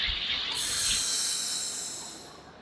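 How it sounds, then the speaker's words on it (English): Carbonated soda water fizzing, a steady close hiss of bubbles that swells after a soft start and then slowly fades, with no talk. "So here we go, the first level of fizziness."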